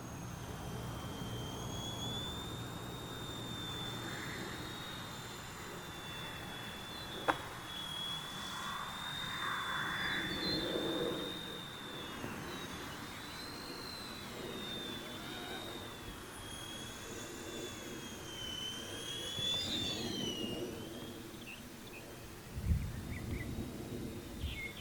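An XK WLtoys K127 radio-controlled helicopter hovers low near the ground in wind, its rotor and motor giving a steady high whine that rises and falls in pitch as throttle changes, with wind noise underneath and no talking.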